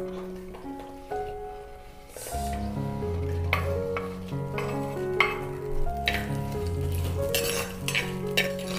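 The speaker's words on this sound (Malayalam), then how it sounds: "ഇനി നമുക്ക് ഈ കട്ട് ചെയ്ത് വെച്ചേക്കുന്ന ഈ വെണ്ടയ്ക്കകത്തോട്ടിട്ടാവേ." Cut okra sizzling and frying in hot oil in a Kerala village kitchen, with a steady close crackle under repeated clinks and scrapes of a utensil stirring in the pan, and no one speaking.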